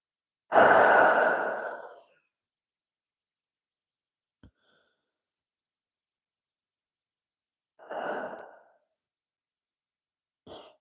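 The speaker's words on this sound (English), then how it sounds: "Inhale and exhale." Deep breathing during a yoga child's pose: a long, loud, breathy exhale near the mic, a quiet tick, then a softer second exhale and the start of a third, with silence between.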